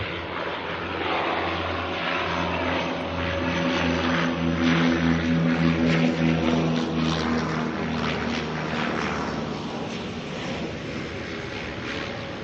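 Dash 8 turboprop airliner arriving at Auckland Airport from Blenheim, a steady droning engine roar with a pulsing low propeller hum, fairly close and swelling slightly in the middle.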